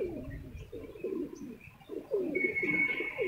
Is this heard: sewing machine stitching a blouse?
no